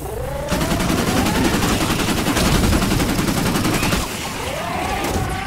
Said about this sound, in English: Let's try it on this blaster.